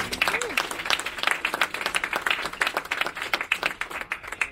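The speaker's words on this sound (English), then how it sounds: "give him a round of applause" Crowd applause at a NAACP Virginia Lobby Day press conference, a steady stretch of many hands clapping at moderate volume, with a brief voice at the start.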